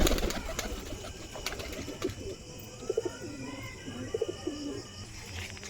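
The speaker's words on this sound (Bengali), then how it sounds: "দেখি এই পায়রাটা ছাড়বো" A pigeon coos close by, a few soft, throaty calls in the middle of the clip over a quiet indoor background.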